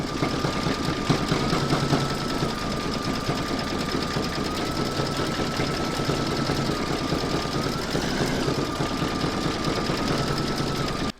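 Embroidery machine stitching colour 21 of an in-the-hoop crazy patch evening bag, a steady fast mechanical whir of needle strokes with a constant hum, running continuously and loud throughout.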